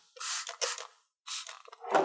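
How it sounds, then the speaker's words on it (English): A plastic spray bottle mists water onto watercolor paint: four short, close hissing squirts that come in two quick pairs separated by a brief pause, with no talking. "I like to wet my paint either with a plastic squeeze bottle or with a spray bottle like this"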